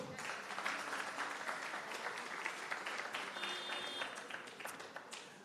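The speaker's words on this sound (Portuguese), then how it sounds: "Agora nós damos um extra aplauso." Audience applause at a press conference, a fairly faint but steady wash of many hands clapping that holds from start to end with a brief tonal beep partway through.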